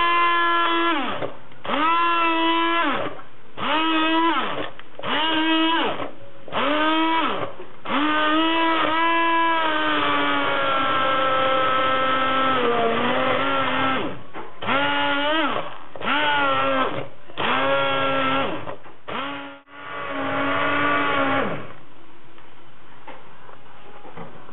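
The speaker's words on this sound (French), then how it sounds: "et on va la hacher avec un mixeur de cuisine" A kitchen blender purees hot nettle soup in repeated bursts, whirring on and off in short pulses with pitch sweeps as the motor spins up, then one longer sustained run before more short pulses.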